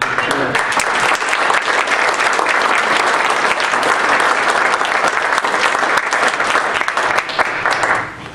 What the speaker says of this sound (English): if you could please applaud this panel